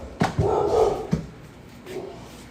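A house dog lets out several sharp, close barks in quick succession, then one softer yip after a pause, with a low rumble of room noise between.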